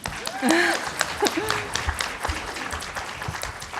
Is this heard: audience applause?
yes